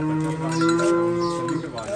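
A Cholistani Friesian calf moos in a long, loud, close call that fills the whole two seconds, with a steady tonal drone and no talk over it.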